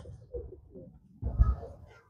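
Kapus racer pigeon cooing at close range, a short soft murmur followed by a louder, fuller burst of low throaty coos.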